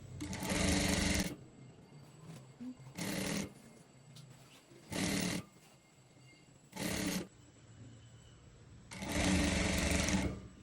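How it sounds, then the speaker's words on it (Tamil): A sewing machine stitches a small pleated frill onto a wrap-style frock, running in five short whirring bursts separated by brief pauses. The sound is loud and close, with no talk. "தூர தூர சின்ன சின்ன ஃப்ளீட் வர்ற மாதிரி மடித்து தைக்க போகிறேன்"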